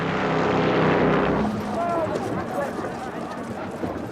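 An early World War I era propeller airplane drones loudly and steadily, its engine rumble shifting as it lumbers into the air, with someone narrating over it.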